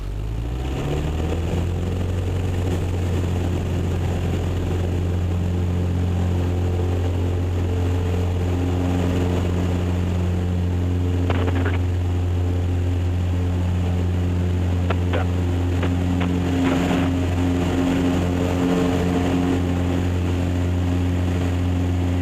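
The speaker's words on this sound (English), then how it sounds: "Okay, we go full throttle, the tail will come up, and then I run it until about 55 or 60, and off we go." A Super Decathlon aerobatic plane's engine roars at full throttle on the takeoff run, a loud, steady propeller drone heard from inside the cockpit throughout.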